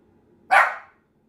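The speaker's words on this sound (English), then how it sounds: "she barking at me" A single sharp bark from a pet dog named Mimi indoors at home, close and loud, standing alone in a quiet room for a brief moment.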